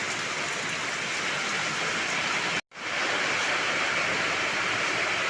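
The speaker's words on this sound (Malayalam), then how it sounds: "മഴ തകൃതിയിൽ പെയ്തുകൊണ്ടിരിക്കുകയാണ്" Heavy rain pours steadily in a dense, loud, unbroken hiss, with a brief dropout midway before the downpour resumes.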